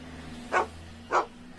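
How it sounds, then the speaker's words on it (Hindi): A dog barking twice, short and bright, evenly spaced over a low steady hum in an otherwise quiet space. "इतने सालों के बाद अपने बचपन के यार को देख के भोला खुशी से भौंकने लगा।"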